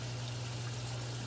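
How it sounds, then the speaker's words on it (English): Water churned by a sump pump in a big aquarium show tank, a steady close rush of flowing water over a constant low pump hum. "the massive amount of water that's being run by the sump pump"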